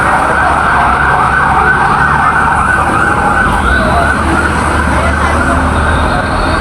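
Loud wailing ambulance sirens blare continuously, close by, with a wavering rising-and-falling tone over road rumble.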